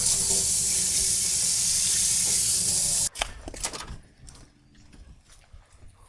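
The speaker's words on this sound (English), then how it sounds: "I gotta wash my hands." Tap water runs steadily while someone washes their hands at a sink beside a Blackstone griddle. The water stops abruptly partway through, leaving soft clatter and handling sounds.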